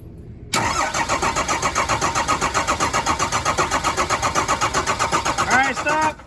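A car engine with its injectors cracked open cranks loud and close, its starter whirring in a steady rhythmic churn for several seconds without catching.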